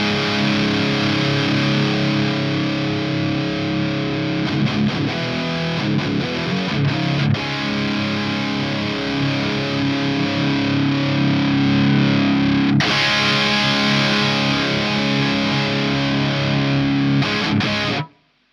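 Human Plexcalibur Plexi-style distortion pedal giving a loud, continuous, saturated guitar tone while its tone knob sweeps, moving from dark and smooth toward brighter and more abrasive, ending abruptly.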